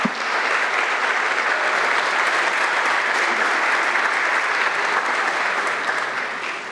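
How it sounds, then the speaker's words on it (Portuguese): A gymnasium audience stands and applauds in a dense, sustained wash of clapping that holds steady throughout and eases slightly toward the end. "o ginásio inteiro em pé aplaudindo o Edivar Simões"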